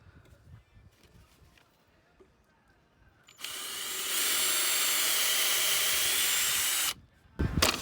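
A power drill bores pilot holes for screws into wood while building a chicken coop, a loud continuous whine for about three seconds after quiet rustling and faint talk, then a brief clunk at the end.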